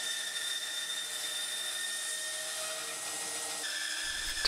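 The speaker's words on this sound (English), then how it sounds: "and then it can be cut off on the bandsaw" Bandsaw cutting through a wooden table leg, a steady high-pitched whine with continuous broadband cutting noise throughout, close and fairly loud, with a change near the end as the cut finishes.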